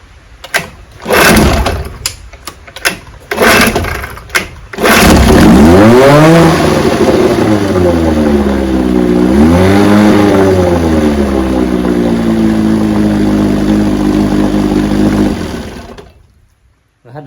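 A 1968 Evinrude 9.5 HP outboard motor, troubled by stalling, gives several rough sputtering catches, then fires and runs loud and close for about ten seconds, revving up and down twice before cutting out abruptly.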